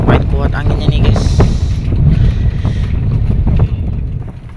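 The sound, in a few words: strong wind on a boat at sea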